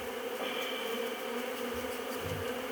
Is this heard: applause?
no